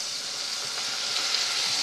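Chop suey bubbles and sizzles in a pan, a steady, dense hiss with faint popping, close and continuous with no talk over it.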